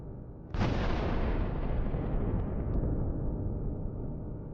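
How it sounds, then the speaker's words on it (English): A massive explosion as the charges of a UR-77 mine-clearing vehicle detonate after a drone strike: one sudden distant boom followed by a long rolling rumble that slowly fades over several seconds. "This leads to a massive explosion."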